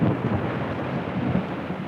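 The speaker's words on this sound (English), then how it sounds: "Rain is closing in." Thunder rumbling in an approaching rainstorm over mountains, a low continuous roll with rain hiss on top, fairly loud and steady, with no voices.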